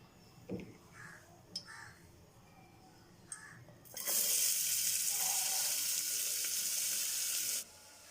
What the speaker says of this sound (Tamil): ஆயில் ஹீட் ஆயிடுச்சு இப்போ நாம ஃபைனா சாப் பண்ணி வச்சிருக்கிற ஆனியனை இதல சேர்த்துக்கிறேன்